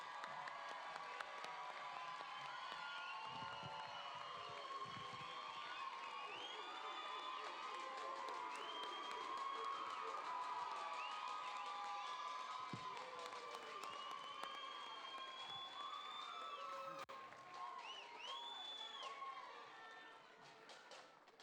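A crowd at a charter school graduation claps and cheers in a long, steady wash, with shouts and whistles rising throughout before easing slightly near the end.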